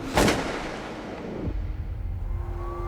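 A single sharp gunshot-like crack rings out in a quiet residential neighborhood in East Los Angeles, followed by a fading echo and a low rumbling ambience.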